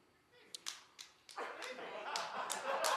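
A small studio audience claps in scattered bursts, a few separate sharp claps at first, then building into fuller applause that grows steadily louder toward the end, fairly faint overall.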